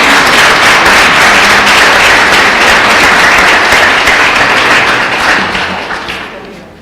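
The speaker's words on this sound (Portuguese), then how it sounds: "Uma salva de palmas para os nossos oradores." A hall audience applauds the speakers after a regional circular economy debate and protocol signing, loud dense clapping sustained for several seconds before tapering off at the end.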